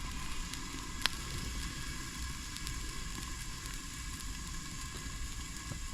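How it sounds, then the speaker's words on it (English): Red snapper steams on a Blackstone griddle with a steady, even hiss and sizzle throughout, moderately quiet, with an occasional faint tick. "I think it sounds like it's about done steaming"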